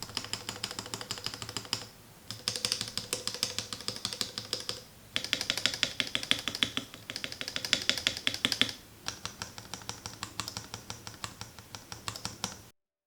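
Rapid clacky typing on a mechanical keyboard, close and crisp, in bursts separated by short pauses.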